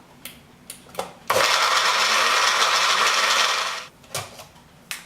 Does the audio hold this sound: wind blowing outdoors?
no